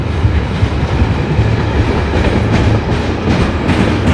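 A train rolls past at close range with loud, continuous rumble and rhythmic clickety-clack, the pounding of a wheel flat spot mixed into the steady wheel noise; no voices are heard.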